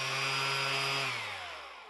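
A Makita cordless random orbital sander runs loud with a steady motor whine and hum, then starts winding down and fading toward the end, with no talking.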